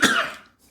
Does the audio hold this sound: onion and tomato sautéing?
no